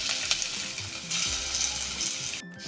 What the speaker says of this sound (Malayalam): നമ്മൾ ഉള്ളി ചതച്ചത് നമുക്ക് ഇതിലോട്ട് ചേർത്ത് കൊടുക്കാം.